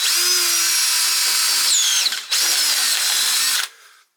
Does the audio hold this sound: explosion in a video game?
no